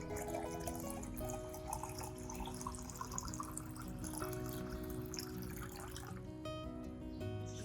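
Water running continuously into a garlic and ginger solution to dilute it, a steady splashing pour with faint tap-like trickle throughout.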